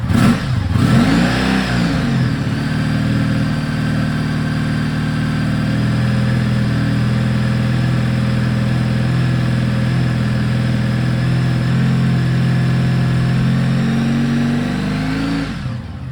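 A Honda V65 Sabre VF1100S motorcycle engine idles steadily just after a cold start, a smooth, even rumble running loud and close for the whole stretch with no voices over it.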